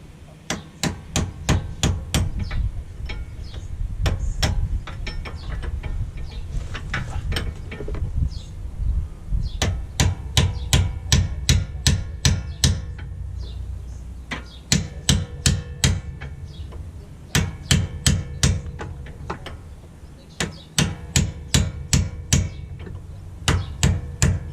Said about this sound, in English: The bottom, I'm getting with a flat punch and a hammer from beneath.